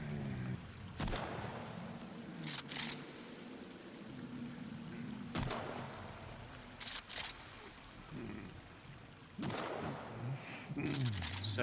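Gunfire in a Sons of the Forest forest camp: scattered single shots and short bursts crack out at irregular intervals over a low ambient hum and muffled game sounds.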